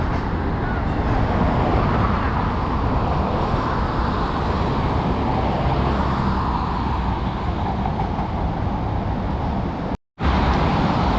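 Steady road traffic on Brooklyn Bridge Boulevard in Brooklyn, New York, a continuous loud roar of passing vehicles filling the whole stretch, with a brief dropout near the end.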